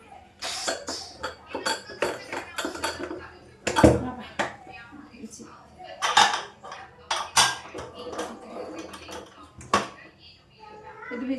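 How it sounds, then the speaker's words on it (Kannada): A whistle weight is set onto a home pressure cooker amid scattered metallic clinks and clatter of kitchen pots and utensils, with a cough and some faint voice in between. "ಇವಾಗ ವಿಜಿಲ್ ಹಾಕೋತಾ ಇದ್ದೀನಿ"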